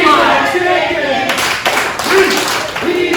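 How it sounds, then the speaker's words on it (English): Crowd at a Stride Pro Wrestling show claps and chants at wrestler Dalton Diamond, sharp rhythmic claps mixed with yelled chanting and voices, loud and close. "The crowd letting Dalton Diamond know they think he's a chicken."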